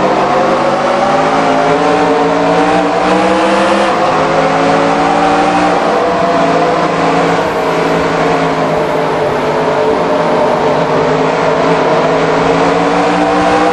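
A pack of race cars in NR2003 roars at Phoenix Raceway on the green flag, their engines droning loud and steady as several cars accelerate together, with layered revving pitches rising and shifting continuously.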